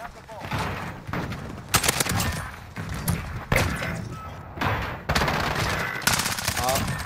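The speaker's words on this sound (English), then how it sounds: "Full SMG mode" Rapid automatic SMG fire in a video game, in repeated loud sustained bursts separated by short pauses, with a voice talking over parts of it.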